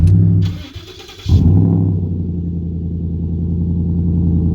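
A Ford F150 pickup truck engine cranks for about a second with a whirring starter, catches with a loud roar, then settles into a steady, deep idle rumble close by.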